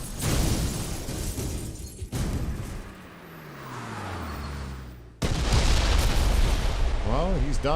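Fireworks bursting in a James Bond video game car chase near the Acropolis, a series of loud booms and crackling pops broken by short gaps, followed by whistling, rising tones near the end.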